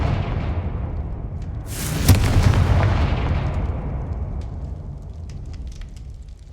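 A Confringo fire spell detonates in Hogwarts Legacy, one loud booming blast about two seconds in that rolls over a constant low rumble, then slowly fades.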